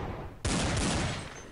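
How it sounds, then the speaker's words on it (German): A sudden burst of rapid gunfire erupts after a short quiet stretch, loud and continuous, like automatic weapons firing close by, in a Counter-Strike match on de_dust2 at a tournament. "schöner Schuss von Fox."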